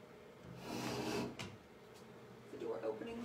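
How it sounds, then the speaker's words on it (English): A door creaks and clunks open in a home craft space, a brief woody scrape with a sharp knock, with a voice talking through it. "The door opening"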